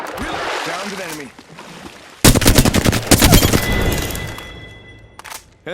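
Rapid automatic gunfire bursts in the shooter game Apex Legends, loud and close, following quieter game sounds, with a final short burst near the end.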